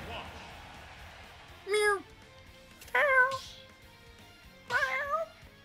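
A person imitates a cat meowing, three separate drawn-out meows spaced over several seconds, fairly loud and close against a quiet background.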